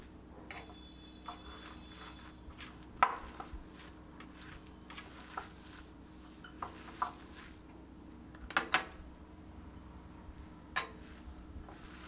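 Greens fritter batter with sesame is worked by hand with gram flour in a bowl, giving soft, scattered scrapes and light taps at an uneven pace, with a few sharper knocks over a steady low background hum.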